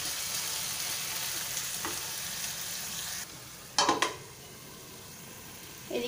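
Spice masala of turmeric and chili powder sizzles in oil in a pan, a soft continuous fry with a few sharper clinks of stirring near the middle and end.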